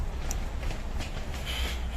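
A steady low rumble of a metro train in motion, with faint rattling and a brief high squeal, continuous throughout.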